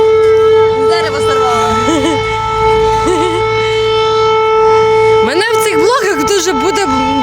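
A loud, steady siren drones throughout, holding a constant pitch while several people talk over it nearby.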